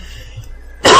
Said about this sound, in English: my cough is killing me